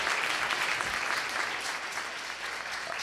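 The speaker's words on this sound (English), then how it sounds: "I'm a bit old, really, for applause for my birthday" Audience members at a foreign ministry official's lecture clap together in a brief, steady burst of applause, moderately quiet and without any talk.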